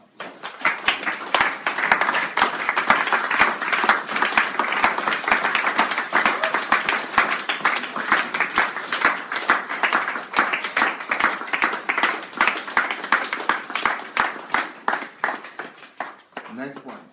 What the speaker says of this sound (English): Give the round of applause.